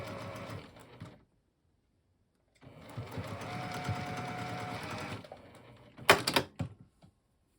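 A sewing machine stitches a snowflake quilt block in two steady runs separated by a pause, a close, even mechanical whir, followed by a brief sharper clatter near the end.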